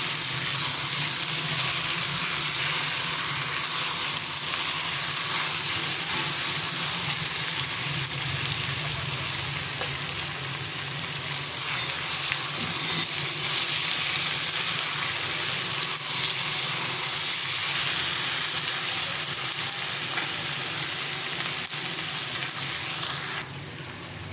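Food frying in a pan: a loud, constant close sizzle and hiss that runs unbroken for the whole stretch, with no talking over it.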